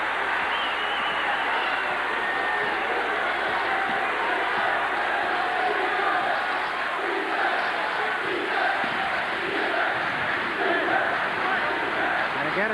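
A basketball crowd at the Thunderdome roars steadily throughout a UNLV vs UCSB game, loud and continuous, with a commentator talking over the cheering.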